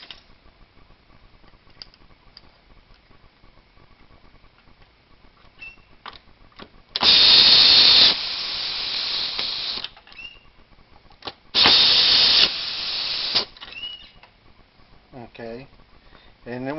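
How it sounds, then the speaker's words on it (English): A pneumatic air driver preset to torque runs two loud bursts tightening fasteners on a hitch assembly, each lasting a couple of seconds with a steady high whirr, separated by quiet handling clicks. "I've got my air driver here that we've already preset to the right torque"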